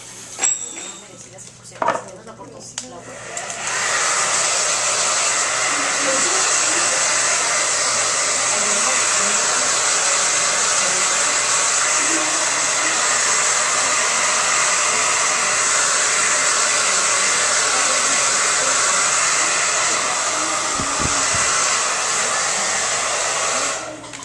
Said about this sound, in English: let's dry this thing. All right, gotta blow dry this